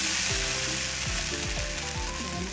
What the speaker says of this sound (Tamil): இப்போ தோசை ஊற்றுவோம்.